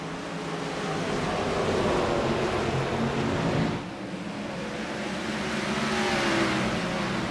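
Race cars roaring off on a restart at the Integrity Ignite Series Throwback 150, a thick sustained engine drone that swells, dips briefly, then builds again, loud and steady with no talk over it.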